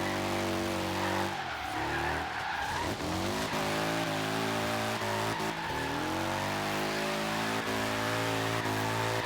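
Logitech G car drifting in Forza Horizon 3, a steady loud engine drone with layered harmonics and tire squeal sliding through the turns, the pitch dipping and rising as the car slides.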